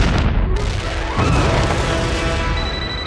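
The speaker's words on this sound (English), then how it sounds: "Yeah, we just heard the explosions." Explosions in the Megamind: Mega Team Unite video game, a loud burst of booming crashes with a sharp blast partway through, then a rumbling tail fading under game sound.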